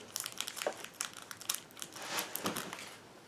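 A Match Attax 2020/21 football card booster pack being torn open close up, with busy crinkling and crumpling of foil wrapper in quick irregular bursts, no voices.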